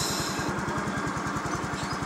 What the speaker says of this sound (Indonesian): kita dengerin suaranya ini di knalpot.